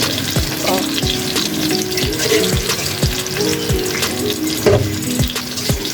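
Hilsa fish frying in a pan over a medium-low flame, a steady close sizzle with repeated sharp scrape and clatter hits from stirring throughout.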